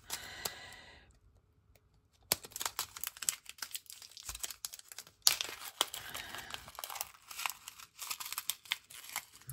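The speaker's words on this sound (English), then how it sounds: "I just want to put the stickers on the front" Stickers are handled and pressed onto the front of haul items, giving close crinkly plastic rustles, peeling and tapping sounds in irregular bursts, with a quiet pause early on.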